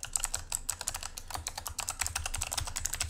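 Quick, steady keystrokes on a computer keyboard while entering login details, close and fairly quiet.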